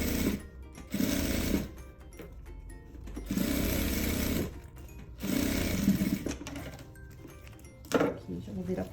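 A sewing machine runs in repeated bursts, stitching around the lining of a boho-style maternity bag, with a steady mechanical whir that stops and starts, while a person speaks quietly under it.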